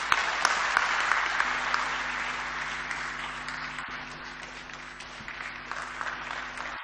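A business forum audience applauds President Cyril Ramaphosa with steady, dense clapping that fills the hall, tapering slightly toward the end, alongside a low steady hum.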